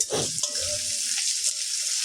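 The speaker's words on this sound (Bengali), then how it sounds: "পেঁয়াজগুলোকে একটু ভালো করে কড়া করে ভেজে নেবো" Onions with a pinch of salt fry in a pan, giving a steady close sizzle with a brief stirring scrape at the start and no talk.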